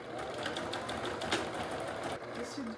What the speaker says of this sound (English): As you see, I do reverse stitching on each pleat, just to secure it